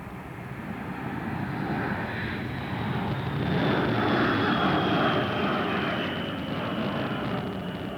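Military planes flying during the 1999 NATO air campaign over Kosovo and Serbia, a steady broad engine roar that swells slightly midway and holds, with no voices.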